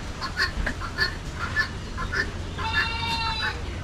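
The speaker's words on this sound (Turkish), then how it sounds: "Tavuklar, keçiler." Chickens cluck repeatedly nearby in short, scattered bursts over a low background murmur, at a temple in Pattaya.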